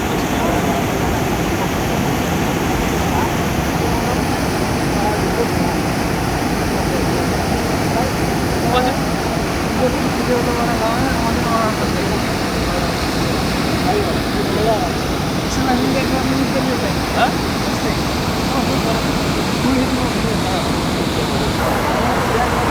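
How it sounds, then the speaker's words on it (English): Continuous broadband rush of flowing water at Al-Haeer Lake Park in Riyadh, a steady loud wash lasting the whole stretch with faint scattered clicks and tones on top. "We're going to see water sounds and fish, and with huge water with the river."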